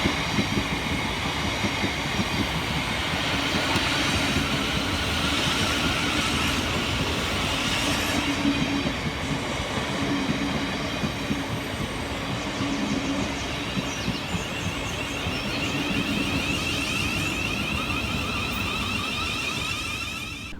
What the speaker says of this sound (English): Next arriving into the station is 70701009 and 707014, working the 1615 Southeastern service of London Charing Cross through to Hayes.